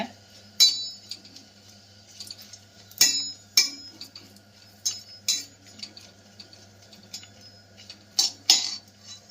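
Chilli powder being dry roasted in a pan for a Tirunelveli-style roasted ground thuvaiyal, with a spoon clinking and scraping against the metal in scattered light taps, fairly close and quiet, with no talk.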